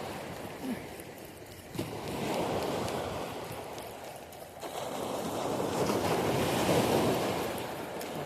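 Sea waves and current surge past while fishing off the coast of Mumbai on a hot summer day, a steady close broadband rush that swells and eases, with wind buffeting the microphone.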